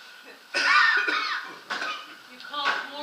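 A cough from a man with a cold, set in an old comedy sketch, followed by other voices talking and a laugh-like burst close by.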